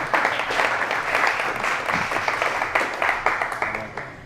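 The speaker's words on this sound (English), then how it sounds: "Round of applause." An audience at a Startup Grind event applauds, a dense patter of many hands clapping that tapers into scattered individual claps toward the end.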